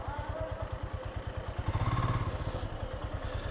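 A motorcycle engine idles with a rhythmic low thumping and some clatter while being parked on a solo ride in East Sikkim, close and steady, rising briefly midway.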